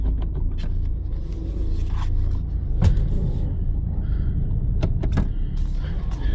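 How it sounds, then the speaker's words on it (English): A car rolls slowly with rust on its brake rotors, a low steady rumble broken by sharp scraping clicks and squeaks at irregular intervals, close by, with no talking. "You might hear the rust on the rotors."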